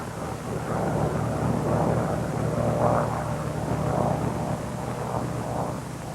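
Bell P-39 fighter airplane landing, a steady loud engine drone with windy roar held throughout, no talk.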